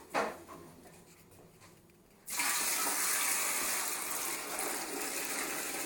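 Dirty carpet-cleaning water from a Rug Doctor X-3 tank is poured out after a quiet moment and a brief knock, becoming a loud, steady gushing splash that continues to the end.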